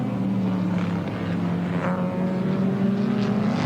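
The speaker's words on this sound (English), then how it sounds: "Through the corner goes Thompson, power to the ground now, the rear end of the car, a little twitchy" Sports sedan race cars at Amaroo Park in 1987, a continuous droning engine roar holding a steady pitch as the cars run through a corner, loud and unbroken, with no voices.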